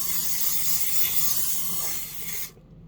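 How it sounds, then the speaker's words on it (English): A steady hissing spray from an aerosol can of butter cooking spray onto a pan, continuous for a couple of seconds, then cutting off abruptly. "spray it on your pan or whatever you're using"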